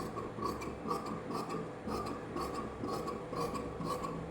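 Scissors snip through saree fabric at a tailoring table, cutting straight along a pulled thread in a steady, rhythmic series of close rasping cuts roughly every half second, with no talk.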